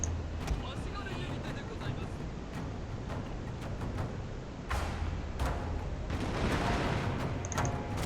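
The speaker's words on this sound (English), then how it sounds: "Alright, we've opened fire on them." Troops opening fire in the video game Shogun 2 Total War, with a steady roar of battle noise and scattered sharp volley cracks throughout, loud and continuous.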